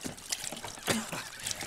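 Stage sound effect of a character swimming at a Halloween theatre show, with soft irregular splashes and trickles of water in short bursts, fairly quiet and close, with no speech.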